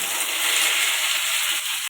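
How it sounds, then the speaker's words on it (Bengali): Boiled, peeled potatoes frying in oil in a home kitchen, a steady bright close hiss of sizzling throughout. "আলুগুলো ভেজে নেব।"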